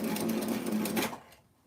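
A sewing machine stitches a T-shirt in a quick, steady rattling run lasting about a second before it stops and the motor winds down to quiet.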